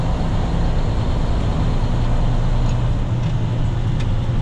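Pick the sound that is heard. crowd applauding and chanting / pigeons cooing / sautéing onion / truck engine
truck engine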